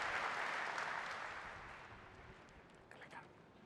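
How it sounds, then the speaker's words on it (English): Applause from a keynote audience at a corporate tech conference, a broad burst of clapping that starts full and gradually fades away, with a few scattered claps and faint voices at the end. "Please join me in offering a great round of applause for Linda and Eric from United Airlines"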